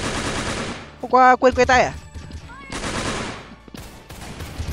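Gunfire in the video game Truy Kich comes as a burst of rapid shots alongside in-game weapon sounds and clatter, with a person's voice speaking briefly amid the action.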